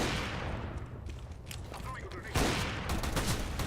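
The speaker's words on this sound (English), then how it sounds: "Just firing a couple of test shots into the bunker." Gunfire in Counter-Strike: a few test shots pop into a bunker, with sharp bursts over steady game background noise, one louder impact near the middle, while someone talks over it.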